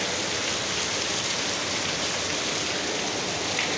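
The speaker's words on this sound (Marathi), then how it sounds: "खूप पाऊस आहे गावी. एकदम खतरनाक पाऊस आहे, खत्री पाऊस." Heavy monsoon rain pours down in a village, a dense, unbroken hiss of drops hitting surfaces, loud and close, with no one speaking.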